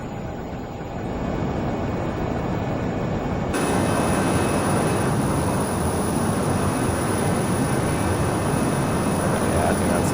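Steady, loud jet engine roar from a Learjet 35A in Microsoft Flight Simulator, continuous throughout and swelling slightly partway in, with no talking over it.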